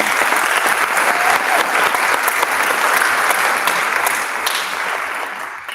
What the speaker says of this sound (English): So give yourself a round of applause for your achievement thus far.